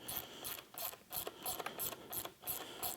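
A ratchet loosens the bottom head tube bolt on a KTM 790/890 Adventure motorcycle, giving close, rhythmic bursts of clicking in even strokes with no voices.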